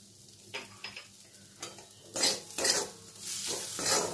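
Grated coconut with a little cumin powder frying and being stirred in a pan, with soft scraping strokes and a faint sizzle that swell into louder bursts of stirring in the second half.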